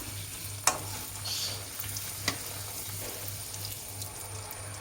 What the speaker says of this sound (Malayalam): അടുത്ത പൂരി ഇട്ട് വെക്കാം. ഇതുപോലെ നമുക്ക് ഇതിനെല്ലാം പൊരിച്ച് വെച്ചെടുക്കാം.